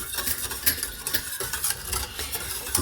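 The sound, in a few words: stirring lemon cream mixture with a spoon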